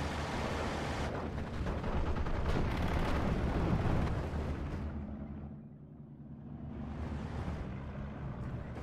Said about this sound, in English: Getting suppressed by MG42s.